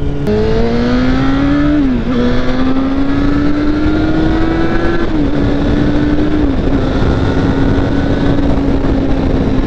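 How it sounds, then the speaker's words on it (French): A motorcycle accelerates hard at high speed, its close, loud engine whine climbing and dropping at three gear changes, under steady rushing wind noise. "elle est un peu surprenante cette moto, parce que quand on essaye vraiment de faire le con et de monter à des vitesses bien au-delà des limites"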